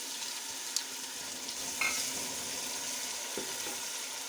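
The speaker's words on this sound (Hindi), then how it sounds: "अब मैं डालूँगी इसके अंदर टमाटर" Tomatoes frying in a pan with garlic and ginger, a soft, steady sizzle throughout with a few faint clicks and scrapes of stirring.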